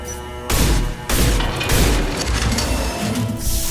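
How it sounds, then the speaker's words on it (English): High-impact gunshots in the video game Mass Effect 2, heavy booming blasts that hit hard and then roll into a sustained crashing barrage of loud, near fire. "Firing a high impact shot!"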